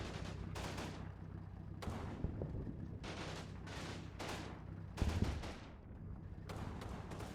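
Combat Mission wargame battle against German forces: repeated gunshots and heavier howitzer blasts crack out in irregular bursts over a constant rumbling background, a few impacts landing louder and closer than the rest.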